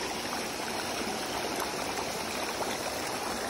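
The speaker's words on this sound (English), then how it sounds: "lot of water coming from the mountain" Heavy water rushing down a mountainside after a night of rain, a steady, dense broadband roar with no pauses, close and continuous.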